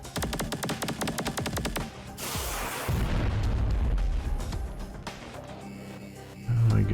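A missile explosion in Superverse: rapid clicking bursts give way to a heavy rumbling boom that lingers as a loud roar, followed by a deep thud at the end.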